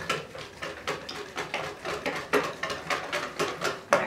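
Vinegar is beaten into homemade mayonnaise in a bowl, a brisk, rhythmic run of close clicking and scraping strokes repeating about twice a second.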